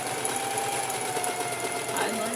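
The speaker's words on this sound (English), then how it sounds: "I'm almost done sewing all the way around" Sewing machine stitching around a pant cuff, a steady continuous hum with fast regular needle chatter that runs throughout, close and fairly even in level.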